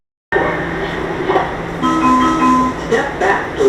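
Metro train at an airport-line station with doors closing, a steady hum of the stopped car under a continuous chime-like tone, with brief clunks and a few bright tonal beeps over the rumble.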